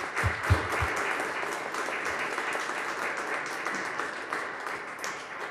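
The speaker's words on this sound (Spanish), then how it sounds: "Vamos a darle un aplauso a la festejada." Applause for a woman turning 80 at a Catholic thanksgiving Mass, a steady, moderately loud round of clapping from the congregation that holds for about five seconds with a few low thumps near the start.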